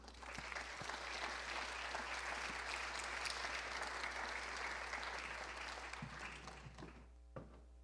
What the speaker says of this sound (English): Let's have a round of applause for Coleman Stevenson.